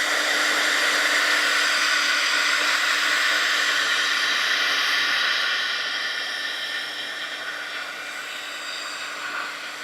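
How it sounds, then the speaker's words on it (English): A hair dryer runs continuously over a watercolor painting made with Karin markers, a steady close whirring hiss with a faint tonal hum that eases slightly softer partway through as it moves, no voices. "So I'm going to dry this."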